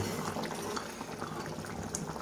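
A mussel curry boils in a pot, bubbling and simmering in a constant, fairly soft wash of liquid sound that never lets up.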